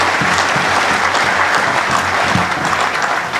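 Loud, steady applause from the audience at the AMECEA 19th Plenary church conference fills the room continuously for a few seconds, with no speech over it.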